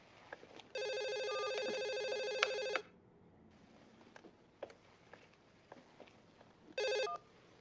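A telephone rings with a bright electronic trill, one long ring of about two seconds followed by a short burst later, heard in a quiet room with faint small movements in between.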